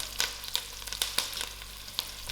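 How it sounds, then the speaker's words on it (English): Curry leaves, thyme and slit green chillies fry in oil for a spicy potato soup, a steady close hiss punctuated by sharp pops and spits at irregular moments, over a low hum. "my curry leaf, and my 2 green chillies which I slit in the center. I'll allow this to fry out"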